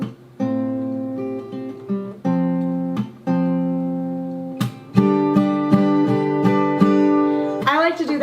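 Acoustic guitar picking through a song, with sustained plucked chords ringing in a steady fingerpicked pattern, several fresh attacks and chord changes, close and clear with no voice over it.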